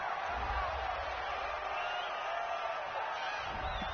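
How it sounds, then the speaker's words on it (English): A home stadium crowd cheers in an American football video game on PS4, a faint, steady wash of distant crowd noise with a few whoops, no talk over it. "This home crowd, they're happy with that call."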